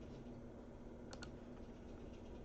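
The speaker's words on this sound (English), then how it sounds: "I right click the area and click Control B" A keyboard shortcut, Control B, pressed while working in FL Studio: two quick, faint key clicks in close succession over a low steady hum.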